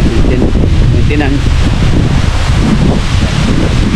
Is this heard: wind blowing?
yes